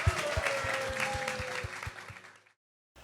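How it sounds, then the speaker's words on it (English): Applause and scattered cheers from the audience at a live sports talk show, a steady wash of clapping with a rhythmic low thump beneath it, fading out before a brief silence. "Let's clap it up."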